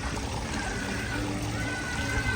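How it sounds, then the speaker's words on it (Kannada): A small waterfall at a zoo pours and splashes in a steady, continuous wash of falling water, close and moderately loud, with no other sound standing out. "ಸಣ್ಣ ಫಾಲ್ಸ್."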